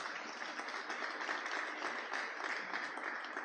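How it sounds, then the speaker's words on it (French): Steady applause fills a funeral gathering, a dense even wash of many hands clapping at moderate level throughout with no pauses. "Applaudissez, s'il vous plaît"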